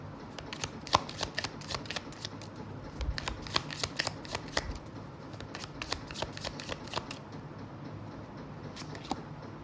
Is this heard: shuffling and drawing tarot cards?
yes